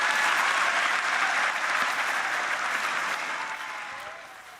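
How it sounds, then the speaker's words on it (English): Audience applause at the Infected Blood Inquiry report, many of the clappers being victims: dense, sustained clapping that fills the room, holding steady before tapering off toward the end. "told the audience, many of whom are victims, to applaud themselves rather than him"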